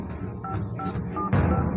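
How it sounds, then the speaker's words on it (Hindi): A phone is dialed as a story sound effect: a short series of distinct keypad tones beeps in an irregular rhythm over a low background hum. "रॉकी ने लिफ्ट में एंटर होते ही किसी को फोन लगाया"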